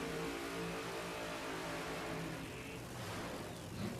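A 2014 Camaro drag race car with a Kowalski power plant running at a drag strip: a dense, continuous engine roar and rumble, heard from a distance and fairly faint, without speech.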